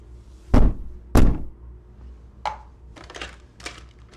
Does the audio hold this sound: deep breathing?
no